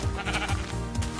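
Sheep bleating in the Minecraft video game, a few short repeated bleats in quick succession, clear and close with no talk over them.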